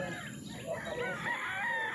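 Gamecock roosters crow and hens cluck in a busy, noisy yard, several birds overlapping at a moderate distance.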